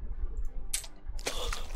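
In the Steins;Gate visual novel, a short wet splattering burst plays twice, a quick squish followed by a louder, longer gory splash.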